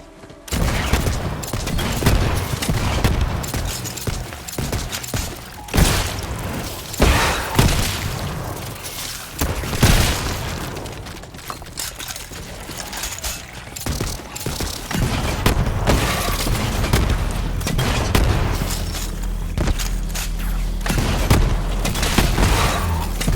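Rapid bursts of gunfire in Borderlands 3 while shooting runes through rings, dense repeated shots and booms continuing for a long stretch with a steady loud game background.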